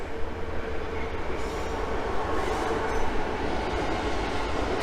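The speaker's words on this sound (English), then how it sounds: "then we've got a train coming up there" A freight train rumbles past nearby at Battyeford, Leeds, with a steady, continuous roar of wheels on rails, loud and unbroken throughout.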